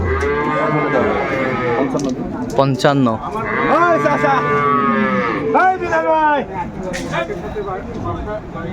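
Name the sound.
dairy cow and calf mooing at cattle market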